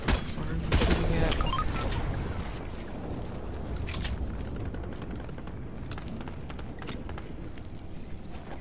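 Gunfire in the Call of Duty video game, with a dense burst of shots early on followed by continuing rapid fire and battle noise at a steady level.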